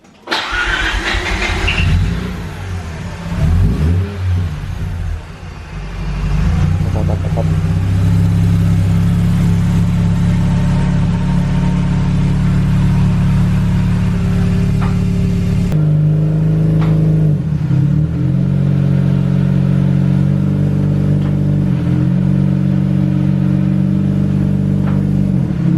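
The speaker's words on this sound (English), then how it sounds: "So ready for first startup and testing of the clutch." A Mazda RX8 track car's rotary engine cranks and fires up after a fresh Exedy clutch install, then settles into a loud, steady idle with occasional revs, heard close and alone in a workshop.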